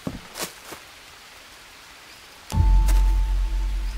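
Rainy-season rain in the survival game Green Hell: a steady, close wash of rain noise that sets in suddenly partway through and keeps going, after a quiet opening with a few soft knocks.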